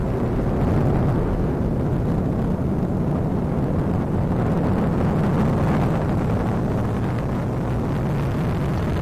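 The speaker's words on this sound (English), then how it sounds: "Don't you love the sound of an RD-180 in the afternoon?" Steady, thunderous roar of an Atlas V rocket climbing on its single Russian RD-180 engine, dense low rumble with gritty crackle and some wind buffeting, loud and continuous.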